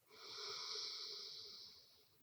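A long, slow inhalation during a gentle yoga stretching routine, heard as a close, soft, airy breath that swells and fades over about two seconds in a quiet room.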